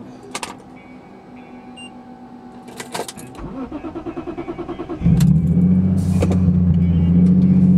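A car with an SMG gearbox and a Horsepower Freak stage 2 clutch cranks with a rapid rhythmic starter whir, then the engine catches and settles into a loud, steady idle close by.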